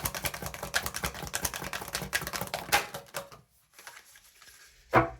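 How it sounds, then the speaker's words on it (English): A new tarot deck is shuffled in rapid riffling bursts of crisp card clicks and flutters for a few seconds, then falls nearly silent before one final sharp snap of cards. "No matter how many times I shuffle the deck, and this is a new deck"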